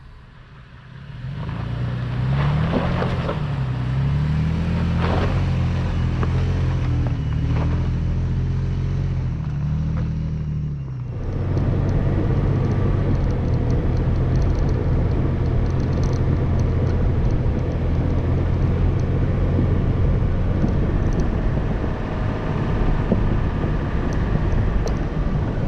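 Toyota FJ Cruiser engine in four-wheel drive climbing a steep trail, a loud steady drone with pitch rising and falling as it strains, then a rougher, harsher sustained roar after a shift about halfway through.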